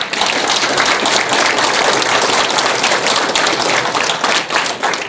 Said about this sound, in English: the candidates up here deserve another round of applause